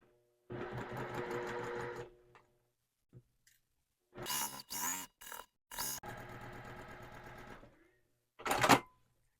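A home sewing machine stitches quilt block pieces, sewing side crowns onto a patterned block, in short runs: a steady whirring burst, a pause with a faint click, then several quick stop-start bursts, another longer run and a final brief burst, close and alone.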